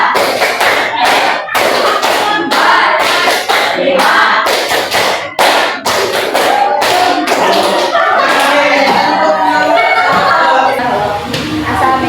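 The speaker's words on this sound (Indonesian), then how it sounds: "Kita pakai tepuk 36 untuk menentukan siapa yang akan presentasi di kelompok 2." A classroom group performs the tepuk 36 clapping chant, sharp rhythmic hand claps in close, loud bursts with chanting voices, the claps thinning into livelier voices and laughter toward the end.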